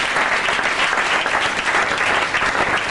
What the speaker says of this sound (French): Acclamez très fort aussi.